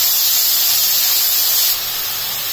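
Finely chopped onions hit hot oil for a base gravy with a loud, close, broadband sizzling hiss that holds steady, then drops a little in level near the end, with no talking.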